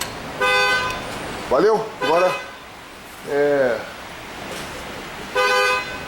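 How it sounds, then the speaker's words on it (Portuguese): A car horn toots in several short bursts spaced a second or two apart, loud and near, during a GM Zafira front suspension repair at a workshop, with brief speech in between. "rapaz buzinando, ele quer vender a buzina."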